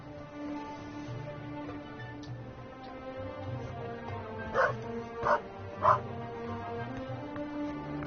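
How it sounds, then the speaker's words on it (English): A dog barking in The Raven Remastered, three sharp barks in quick succession midway through, over a soft musical background with faint whimpering tones. "Good dog."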